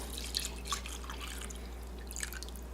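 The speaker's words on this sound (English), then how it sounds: "we shall pour in 1 quart of the finest vodka available" Vodka is poured over lemon peels stripped from ten lemons to make limoncello, heard as a faint, wet trickle with scattered small drips over a low steady hum.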